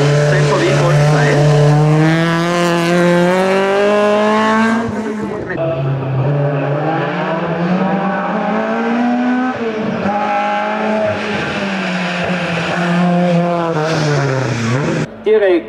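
A VW Golf 2 race car climbs the Rechberg hillclimb with a loud, high-revving engine, sweeping up through the gears with sharp shift breaks, heard close and steady while a commentator talks over it.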